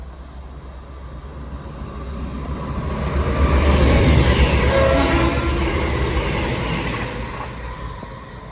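Voyager train passing through Longport railway station on the line between Stoke-on-Trent and Crewe, a deep rumble swelling to a loud peak as it goes by, then receding.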